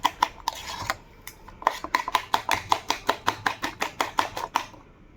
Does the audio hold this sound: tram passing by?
no